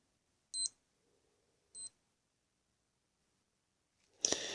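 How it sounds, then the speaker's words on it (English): Two short, high electronic beeps about a second apart from a Timex Ironman Triathlon digital watch changing mode, followed by a burst of rustling noise at the end. "you hear it beep because it went into a different mode"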